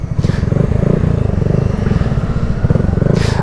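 A motorcycle passing close by near a beach, its engine giving a loud, steady rhythmic throb that swells and holds throughout.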